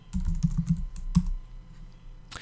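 Keystrokes on a computer keyboard while a search term is typed into a website search field, a quick cluster of close taps in the first second and a half, then a lone click near the end, no talking.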